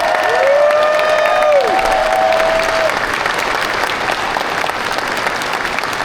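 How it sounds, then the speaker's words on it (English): An audience at the Anthrocon 2025 convention closing applauds loudly with some cheering, the dense clapping holding steady and then easing slightly, with a brief whistle-like tone early on. "Let's give them a huge round of applause."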